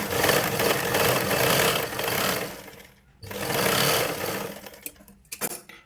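A sewing machine stitches blouse cloth in a long, steady, loud whirring run that stops briefly near the middle, restarts, and trails off into a few short bursts at the end.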